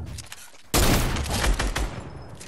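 A Fortnite sniper rifle fires a sudden loud blast after a quieter stretch, followed by a burst of echoing gunfire and crackle that slowly fades.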